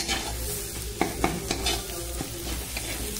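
Egg bhurji, dhaba style, sizzles steadily in a pan while a utensil stirs and scrapes it in a few sharp, uneven strokes, close up and with no talking.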